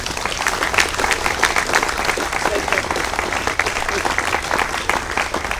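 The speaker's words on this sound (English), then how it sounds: "big round of applause." A crowd at a Memorial Day ceremony in West Covina applauds continuously, dense steady clapping at close range for several seconds with no pause.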